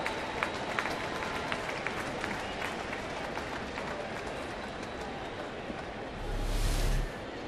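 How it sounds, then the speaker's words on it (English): Baseball crowd at a Pirates versus Cardinals game in St. Louis applauding a center fielder's diving catch attempt, a broad steady wash of clapping from a large stadium crowd, with a brief louder rumble near the end. "the fans applaud the effort of John Jay in center"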